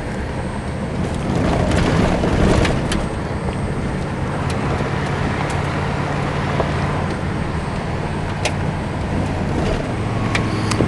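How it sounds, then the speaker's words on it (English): Vehicle driving along a dirt ranch road in canyon country, a steady close rumble of engine and tire noise over rough ground with occasional knocks and rattles, continuous with no talking. "We're going to drive out of the ranch here and go along the bottom portion of the property."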